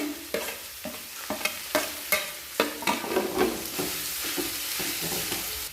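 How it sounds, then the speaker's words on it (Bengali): Grated beetroot and carrot get stirred in hot oil in a wok, with a spatula scraping in regular strokes over a steady sizzle that grows denser as the stirring continues. "এরপর গ্রেটার দিয়ে গ্রেট করে নিয়েছিলাম বিট আর গাজর দিয়ে দিলাম কড়াইয়ের মধ্যে"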